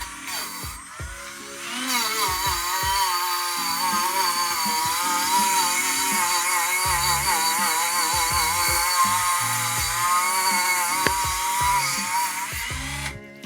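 A grinder whines steadily against a rusty 43-year-old BMW 2002 subframe, loud and close, its pitch wavering as the disc bites the metal for the whole stretch.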